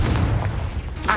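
Confringo blasting spell going off in the Hogwarts Legacy video game, a dense rumbling boom with crackling bursts that stays loud across the short moment and flares again at the end.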